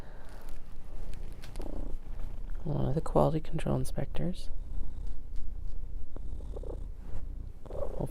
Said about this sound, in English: Hopefully you can hear him purring on the mic.